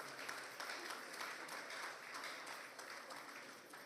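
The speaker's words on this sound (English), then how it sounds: "let's give LASRAB a resounding round of applause" An audience applauds for the Lagos State Records and Archives Bureau at the presentation of a history puzzle book, giving a steady, dense wash of clapping that holds for the whole stretch without a break.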